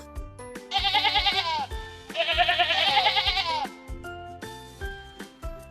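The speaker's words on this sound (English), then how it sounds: "Sheep." A cartoon sheep bleats in two long, wavering calls over light background music, with soft plucked notes continuing after the bleats fade.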